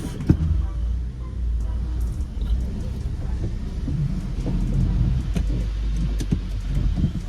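A Hyundai i20 bought at auction drives along with a steady low engine and road rumble, with scattered knocks and clicks over it and no talking.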